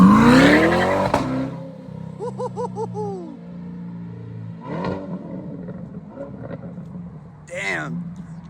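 Stock Chevrolet Corvette C8 sweeping past on a short stretch beside a grocery store, a loud engine swell followed by a series of sharp exhaust pops and crackles, with people talking nearby.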